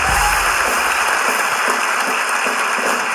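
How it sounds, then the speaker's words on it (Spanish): A comedy show audience claps in a sustained, dense burst of applause. The sound is loud and close and holds steady without pause. "este aplauso para toda la gente de Ecuador"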